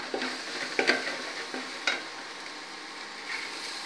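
Rice tipped into a pot of frying masala and oil for plain kuska, with scraping stirs and a few sharp clatters over a steady low sizzle, fairly close.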